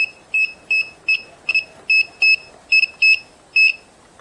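A circuit tester beeps in short, evenly spaced electronic chirps, about ten of them in quick succession, while fuses on a vehicle are checked one after another. The beeps are close and clear, with no talking.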